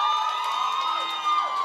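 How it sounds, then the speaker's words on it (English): A live audience at an intimate unplugged music performance cheers and whoops for the band in a continuous, close crowd roar with ringing tones underneath. "y'all clap for my band"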